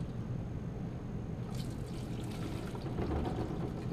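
Fuel sloshes and splashes roughly into a sample container, a turbulent rush of liquid with gurgling agitation swelling midway, close and steady for a few seconds with no talk.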